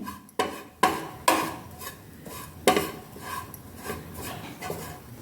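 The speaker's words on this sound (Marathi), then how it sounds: "त्याकरता तुपामध्ये खोबरे भाजून घ्यायचे" Grated coconut roasts in ghee in a pan for karanji filling, heard as close scraping strokes of a spatula, several sharp rhythmic scrapes at first that turn into softer rubbing and stirring, with no talking.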